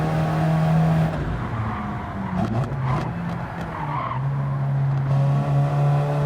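A race car engine in the video game Gran Turismo 7 drones steadily with tires skidding and squealing in the middle, loud and continuous from start to finish.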